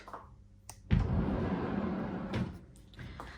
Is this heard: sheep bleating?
no